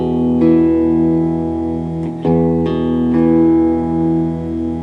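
Electric guitar through a humbucker pickup on a Highway Blues guitar, a sustained strummed chord ringing with a few fresh strums layered over the decay, loud and close.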